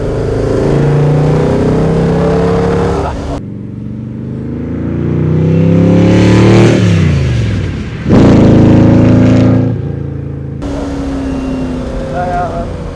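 A 1967 Bizzarrini 5300 GT's engine roars and revs hard up close, with deep rising and falling pulls between loud bursts of revving and some interior cabin noise.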